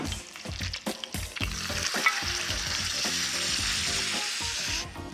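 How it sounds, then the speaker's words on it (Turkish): Meat sizzles loudly in butter in a hot pan, a steady crackling hiss with scraping and stirring knocks underneath, close up and without speech. "Artık etimi tavaya koyabilirim."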